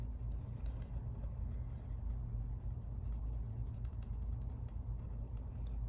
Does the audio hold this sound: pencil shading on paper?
yes